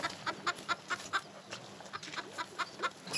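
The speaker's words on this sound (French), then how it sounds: "On comprend que les poules l'intéressent." Hens cluck in a quick, irregular series of short, fairly soft calls close by, with a faint farmyard background and no talking.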